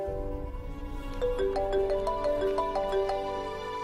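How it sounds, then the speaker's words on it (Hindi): A phone rings with a melodic electronic ringtone in a Pakistani drama scene, a repeating sequence of bright tones sounding clearly on its own. "देखो बेटा, किसका फोन है?"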